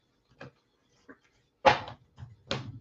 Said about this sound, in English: I'm going to give it another shuffle and fan these out.